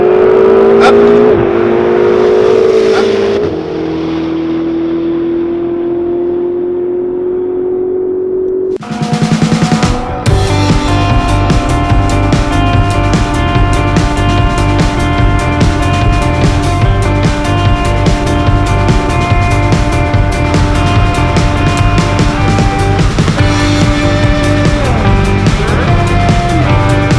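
A Ferrari 488 GTB accelerates hard down the straightaway of the SpeedVegas race track. The loud engine note climbs in pitch, breaks briefly at a gear change, then holds a sustained high-revving roar from inside the car.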